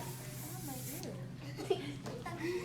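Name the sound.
hairspray being sprayed from can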